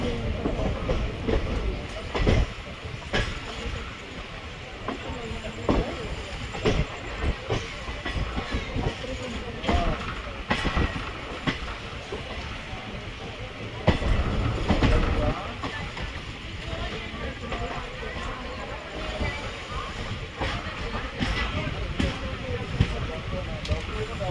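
The 17239 Simhadri Express runs between Bhimavaram and Visakhapatnam, its wheels giving a steady rhythmic clickety-clack and rumble heard from inside the coach, with voices talking over the continuous rolling noise.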